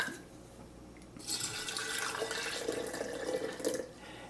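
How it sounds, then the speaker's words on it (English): Water poured over a dried piece of sourdough starter, a steady close splashing trickle that starts abruptly and runs for a few seconds before tapering off. "I'm going to add it to some water"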